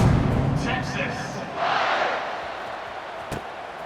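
A home stadium crowd in the College Football 26 video game roars loudly at the start, swells again briefly midway and then settles into a steady background murmur.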